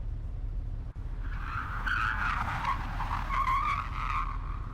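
A car driven through Arizona skids with tires squealing, a sustained screech rising over a low engine rumble and fading near the end.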